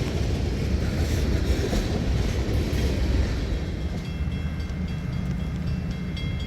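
Steady rumble of a freight train hauled by EMD locomotives rolling past on a steep grade near Lewis Run, Pennsylvania, a continuous heavy drone with faint rhythmic rail clatter that eases slightly toward the end.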